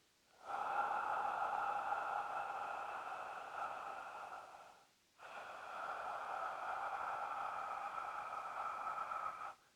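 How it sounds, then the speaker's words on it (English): Two long audible yoga breaths, ujjayi style with the mouth open, each a steady hushed airy rasp lasting about four seconds, close and alone with a brief pause between them. "So you just go back to that stage 2 breathing, breath with sound with the mouth open."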